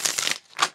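Tarot cards being shuffled by hand give two quick, papery riffling bursts close by, separated by a brief pause.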